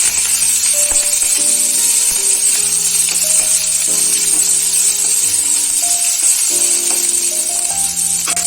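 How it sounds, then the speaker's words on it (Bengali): Chopped onion and green chili sizzle steadily in a hot pan, a loud, continuous frying hiss with faint clinks of stirring and no talk. "পেঁয়াজ কুচি আর লঙ্কা কুচি দিলাম কুচি করে। এটা একটু ভালো করে ভেজে নিই।"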